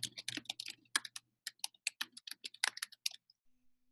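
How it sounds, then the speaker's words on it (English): A password is typed on a computer keyboard in a quick, close run of crisp key clicks, irregular in rhythm, with a few brief pauses before the tapping stops. "I'm going to go ahead and enter in my current password"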